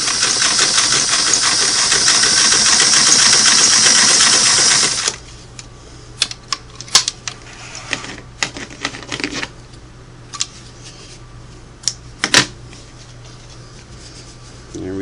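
Singer Model 338 sewing machine running a double-needle stitch at its longest setting, 6 stitches per inch: a loud, steady whirring hum for about five seconds that stops abruptly, followed by faint clicks and handling noises.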